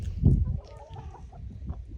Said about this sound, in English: I have all the chickens lined up here